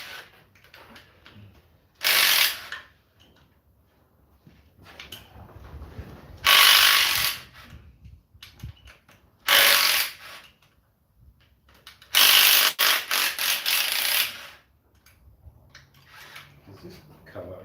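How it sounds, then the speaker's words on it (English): A rattle gun (impact wrench) undoing nuts fires in four loud, close bursts of rapid hammering, each about one to two seconds long, separated by quieter stretches of background noise. "rattle gun."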